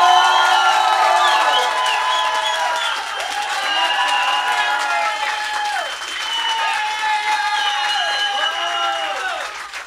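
A large audience at a Fender Day 2016 guitar battle gives loud, sustained applause mixed with cheering and whistling whoops for contestant number five, a dense roar that stays strong for about ten seconds.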